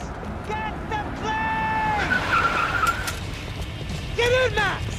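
Car driving in Max Payne 3 with engine drone and sharp tire squeals, under continuous game dialogue and a rising whine near the end.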